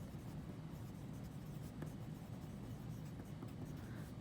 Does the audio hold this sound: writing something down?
yes